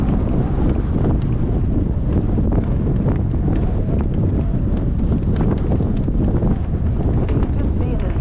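Gale-force wind roars steadily and loudly across the microphone outdoors, with a trotting two-year-old horse being driven into it; the buffeting rumble fills the whole stretch without a break.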